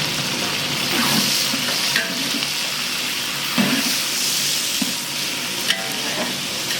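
Shallots and green chillies sizzle steadily as they fry in a pan, with a continuous hiss and occasional stirring scrapes and clinks, close and alone.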